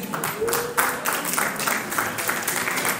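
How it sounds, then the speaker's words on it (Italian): An indoor audience applauding in a hall, a steady patter of many hands clapping at once, moderately loud and continuous, with a murmur of voices underneath. "non battiamo le mani"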